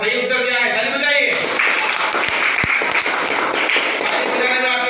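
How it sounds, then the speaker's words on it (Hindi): Students in a classroom quiz applauding, a dense patter of hand claps mixed with voices speaking over it. "ताली बजाइए।"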